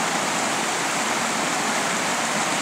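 Small mountain stream in Pole Canyon, Great Basin National Park, fed by snowmelt, with a steady, loud, broadband rush of flowing water that stays close and unbroken throughout, and no voices.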